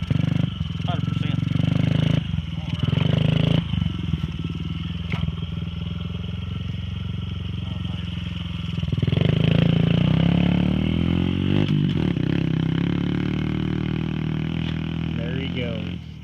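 A small Honda XR50 pit bike engine idles and revs nearby, rising in pitch around the middle, while people talk over it.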